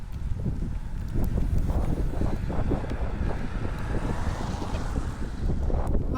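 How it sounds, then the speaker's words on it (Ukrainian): Strong wind buffets the microphone on a wet, rainy mountain road during a long-distance Gran Fondo cycling event, a loud continuous rushing roar that surges and eases. "Подув вітер, стало холодно."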